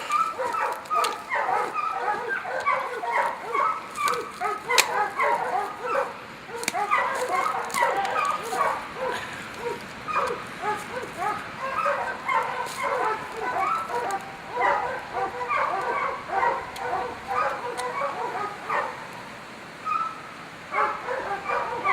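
Hunting dog after a kill in the field, giving repeated yips, whimpers and short barks in a steady, restless stream at close range, with people talking intermittently around it.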